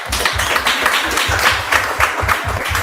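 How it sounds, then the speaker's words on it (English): At a women-in-tech meetup, an audience claps close and loud, with a brisk, rhythmic pattern of strong regular beats running through a dense spread of overlapping hand claps. "can we clap for her?"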